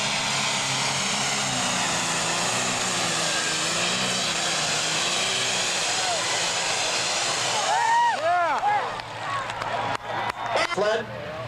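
A 1998 NTPA 7,700-pound super stock pulling tractor with four superchargers roars loudly and steadily, then its engine revs rise and fall in sweeping bursts near the end, with a voice talking over it.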